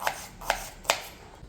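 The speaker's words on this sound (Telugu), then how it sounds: "ఒక ఆనియన్ కట్ చేసుకుందండి." Three sharp knife chops through an onion on a cutting board in a home kitchen, evenly spaced and close by, with quiet pauses between them.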